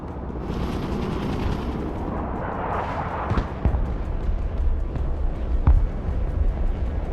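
Gunfire and explosions in the Broken Arrow war game, a dense rolling rumble of distant artillery and machine-gun bursts with several sharper blasts standing out, loud and continuous throughout.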